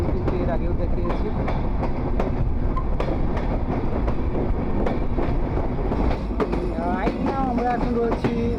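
A train runs along the rails near Rajbari railway station in Bangladesh, a loud continuous rumble with rhythmic clacking of wheels and metallic squeals, close and filling the whole stretch.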